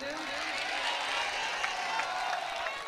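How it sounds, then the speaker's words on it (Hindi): Steady applause from a mushaira audience in Burhanpur, a dense even patter of many hands clapping at moderate distance for about three seconds, with no talk over it. "एक बार आरिफ भाई के लिए एक बार ताली बजा दें।"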